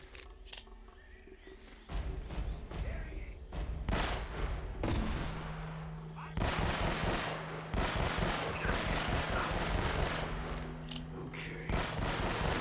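Gunfire in Uncharted: Drake's Fortune, a PlayStation game, comes as bursts of sharp shots over a busy game soundtrack. The shooting runs for most of the stretch, and some talk is heard here and there.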